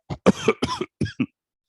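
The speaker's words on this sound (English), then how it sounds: "Actually, I caught the viral cough." A series of harsh coughs from a viral cough, about five bursts in quick succession, close and fairly loud, with short pauses between them.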